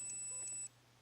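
A multimeter gives a steady, high-pitched continuity beep while testing a switch PCB from a Land Rover Discovery 3 suspension switch, a single tone lasting under a second before cutting off to quiet.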